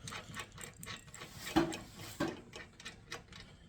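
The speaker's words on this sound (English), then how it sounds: "just tightening the nut on the back side" A nut being tightened on a garage door pulley with a wrench, heard as a run of quiet mechanical ticks and clicks, with two sharper louder clacks partway through.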